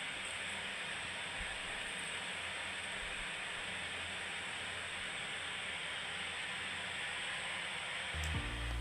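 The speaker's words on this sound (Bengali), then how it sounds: "আজকে ভেজ ডাল করার জন্য মুগ ডালগুলো ভেজে নিচ্ছি" Moong dal dry-roasting in a pan for a vegetable dal, giving a steady broadband hiss and crackle that runs unbroken throughout at moderate level, with a few faint low clatters near the end.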